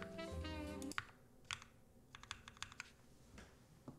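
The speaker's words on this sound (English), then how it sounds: "I gotta point the mic down for the typing sounds test" Typing on a Keycult x Grovemade No.2/65 mechanical keyboard, with a run of separate keystroke clacks after a short burst of background music, the keys close and fairly crisp.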